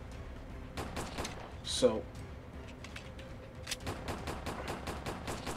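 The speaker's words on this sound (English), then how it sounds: "they're shooting at me" Police gunfire pelts the player in a SpongeBob fan game, rapid popping shots that come in quick runs, especially toward the end, while someone speaks briefly over them.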